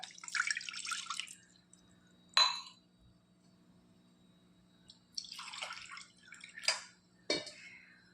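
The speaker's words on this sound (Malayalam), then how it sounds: "ഒരു ഗ്ലാസ് അരിപ്പൊടിയാണ് നമ്മളിവിടെ എടുത്തിരിക്കുന്നത് അതിന് ഒന്നര ഗ്ലാസ് വെള്ളം ചേർത്ത് കൊടുക്കുക" Water is poured from a glass into a pan for rice flour while making Kerala-style kai pathiri, coming in several short splashing bursts with drips and a light clink, separated by quiet gaps.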